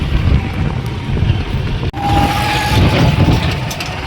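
A tractor engine drones loudly and steadily up close, low and rumbling, with a brief dropout partway through before the same running noise continues.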